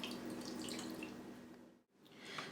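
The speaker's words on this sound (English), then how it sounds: "So you just start pouring it all into your bucket." Brine poured from a container into a bucket over pork riblets, a continuous quiet liquid splash and trickle that briefly pauses before resuming.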